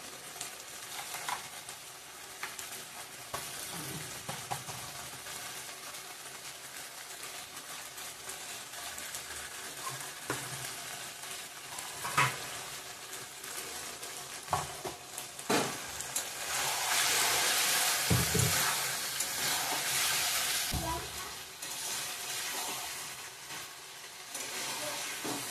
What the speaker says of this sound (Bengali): মাংসটা ভালো করে কষানো হয়ে গেছে মশলার সঙ্গে